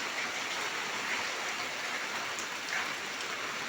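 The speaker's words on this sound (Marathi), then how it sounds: "मुसळधार पाऊस आणि रम्य सकाळ" Heavy monsoon rain pours down steadily in the morning at a village, a dense, even hiss of drops with no voices.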